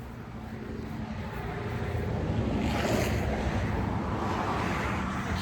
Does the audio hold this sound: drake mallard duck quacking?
no